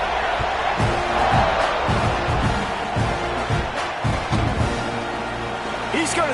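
A football stadium crowd roars steadily at a Tulane vs Texas A&M game after a touchdown drive, a broad, constant wash of cheering with a commentator talking over it.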